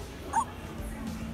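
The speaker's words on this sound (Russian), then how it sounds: "Она гавкает" A FurReal Friends toy dog gives a single short, fairly quiet electronic yip over faint room noise.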